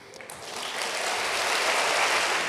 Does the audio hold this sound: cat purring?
no